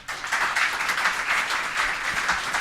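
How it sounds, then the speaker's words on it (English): Conference audience applauding at TADHack Summit Lisbon 2016, a steady wash of clapping that carries through the whole moment with no talk over it. "And again, a round of applause"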